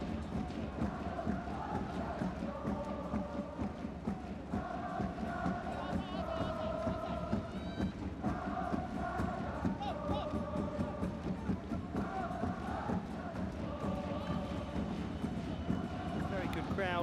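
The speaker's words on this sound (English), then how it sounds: "Very good crowd here today. Close to being completely full, the Ekimae Real Estate Stadium." A near-full stadium crowd at a Sagan Tosu versus Vissel Kobe J-League football match at Ekimae Real Estate Stadium keeps up a steady roar with rhythmic chanting, under a commentator's talk.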